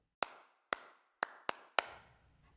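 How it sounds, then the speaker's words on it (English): A single person's hand clap, sampled from a 1980s Abbey Road studio drum library, repeats five times, each a tight, dry, close slap with a brief room decay. "Solo hand clap."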